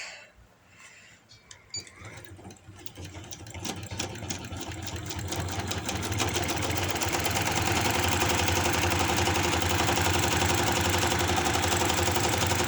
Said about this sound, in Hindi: वही 1 इंच का मार्जिन अंदर देते हुए सिलाई को डबल से ट्रिपल पक्का करते हुए तो एंड तक हम इसे सिलाई कर देते हैं